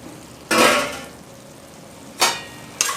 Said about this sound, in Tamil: 3 மினிட் வரைக்கும் மிக்ஸ் பண்ணிக்கிடலாங்க